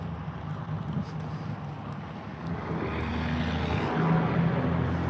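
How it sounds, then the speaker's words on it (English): A truck engine rumbles and grows louder as it passes nearby, a low sputtering drone over steady road noise. "There's an engine sound farting as the truck is driving by me"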